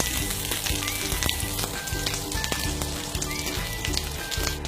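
Breadcrumb-coated tikki patties frying on a hot tawa in an Indian kitchen, a steady close sizzle with crackling pops throughout and no talking.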